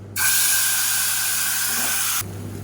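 A steady, loud hiss of chutney ingredients sizzling in hot oil starts abruptly, holds for about two seconds, then cuts off.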